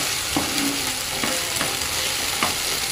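Green peas frying in a pan for samosa filling, with a steady sizzle and a few sharp pops breaking through at irregular moments, close up with no talking.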